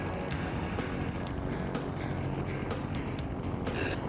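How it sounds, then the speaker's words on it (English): An ultralight aircraft's engine, throttled down to about nine horsepower at 800 feet, drones steadily in flight with a low rumbling hum and wind rush, loud and continuous, with rhythmic pulsing accents throughout. "We're going to throttle down the engine so it's the equivalent of 9 horsepower"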